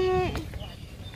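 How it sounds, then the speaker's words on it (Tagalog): A single short goat bleat, loud and close, fades after a fraction of a second into quiet outdoor background at a waterfront park in Tai Po. "May kambing!"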